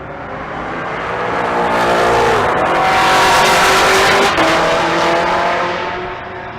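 A C7 Corvette and an S197 Mustang drag race at Bandimere, engines roaring loudly as they launch and pass close by, rising in pitch before fading away.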